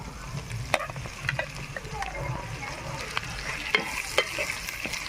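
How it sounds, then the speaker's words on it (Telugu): Pounded ridge gourd chutney going into a hot pan with onions and being stirred, giving a steady low sizzle with scattered scraping clicks of the spoon against the pan, close by and moderately loud. "ఇప్పుడైతే మనము దంచుకున్న పచ్చడి అయితే యాడ్ చేస్తున్నానండి."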